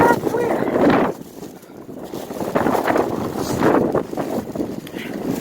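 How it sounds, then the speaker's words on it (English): Strong wind gusts buffet the microphone on a city street in Philadelphia, a loud, uneven roaring rush that swells and fades in surges while a person talks through it. "that's how disrespectful the wind is"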